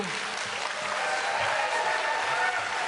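An audience at a televised 2018 Florida gubernatorial debate between two candidates breaks into steady, even applause that fills the hall, with a voice faintly audible beneath it.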